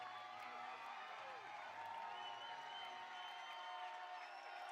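Crowd at a Florida Gators softball game keeps up a steady, distant roar of cheering and whoops, a busy wash of voices with no single standout burst.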